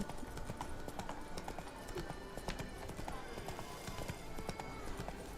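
Horse hooves clip-clop steadily in The Witcher 3, close and rhythmic over a busy game soundscape, with faint voices in the background.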